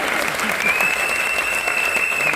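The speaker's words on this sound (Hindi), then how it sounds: "जरा इनके लिए ताली बजा दो" An audience breaks into steady, dense clapping in a room, a continuous even patter of many hands with no voices over it.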